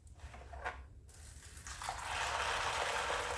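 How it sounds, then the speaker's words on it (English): Water pours from about four cups into a 2-quart plastic bag, beginning with a few soft crinkles and splashes and building into a steady gushing stream, close and fairly quiet. "So this is basically 4 cups of water that I'm putting inside these bags."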